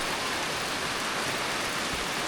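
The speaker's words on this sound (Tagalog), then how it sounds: "nabutan tayo ng ulan" Steady, dense rain hiss from an approaching typhoon, an even wash of falling rain with no voices or other distinct sounds.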